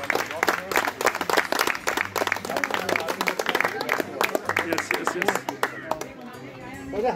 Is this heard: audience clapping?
yes